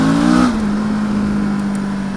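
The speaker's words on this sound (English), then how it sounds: "you whack it and hear the back end spin up all over the place" Suzuki DL650X twin-cylinder motorcycle accelerating hard on loose ground, the engine note climbing then settling into a steady sustained drone as the rear wheel spins up, close and loud.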